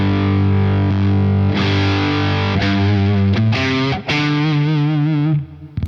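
An electric guitar runs through a tube circuit powered at 9 volts, giving a heavily distorted tone. Several sustained chords ring out and decay, with a few fresh strums before the sound fades away at the end.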